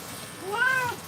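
A cat lets out a single rising-and-falling meow while being groomed for a lion cut, close and clear over a quiet background.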